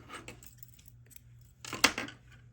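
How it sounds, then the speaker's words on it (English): Scissors give a single close, crisp snip through crochet yarn, a short sharp cut standing out from a quiet room with a faint low hum. "Now you're going to want to cut your yarn"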